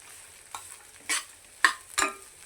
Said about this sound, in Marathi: म्हणून मध्यम गॅसवर आपल्याला हा रवा भाजत राहायचा आहे.